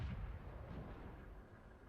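A tank cannon shot in World of Tanks, a single deep, booming blast that rolls out into a long low rumble, heavy and dull rather than sharp, with no voices over it.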